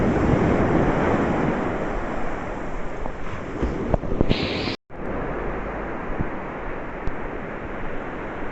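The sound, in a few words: ocean waves on a beach in North Goa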